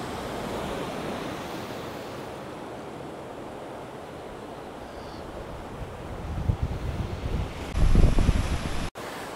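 Atlantic Ocean surf at San Sebastian on La Gomera, a steady rushing wash of waves with gusty wind buffeting the microphone, swelling louder toward the end.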